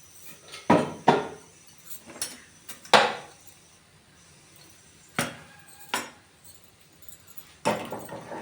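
Spoon scraping and clinking against a pan while amaranth leaf fry is mixed, a handful of sharp metallic knocks and scrapes spaced irregularly, close and fairly clear, with no talking.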